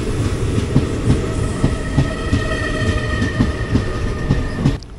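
Express train pulling out of Kuzhithurai station, with rhythmic clickety-clack of wheels over rail joints, steady rumble and a faint whine, close and continuous before an abrupt drop at the end.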